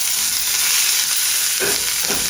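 Food fries in hot flavored olive oil with a dense, steady sizzle that stays loud and close throughout, swelling briefly near the end as more spatters crackle.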